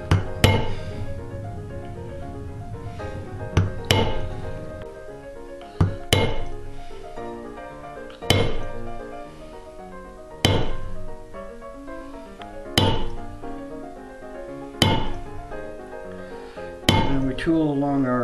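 Metal hammer striking a tooling tip to press a line into a leather belt along a scribe line, sharp close taps spaced about two seconds apart, each ringing briefly over a steady tonal music bed.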